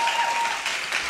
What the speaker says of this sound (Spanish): Gracias a los que aplaudieron.